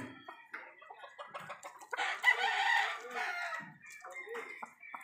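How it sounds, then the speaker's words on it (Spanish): A well-built pedigree gamecock clucks in a run of short, close calls, then lets out a full drawn-out crow, followed by more clucking. "es un gallo de buen fenotipo, un gallo bien hecho, con buen pedigrí."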